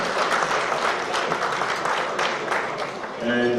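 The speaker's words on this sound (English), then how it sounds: "A round of applause, ladies and gentlemen." An audience at an award ceremony applauds steadily, a dense crowd clapping throughout that dips briefly and swells again near the end while a voice speaks over it.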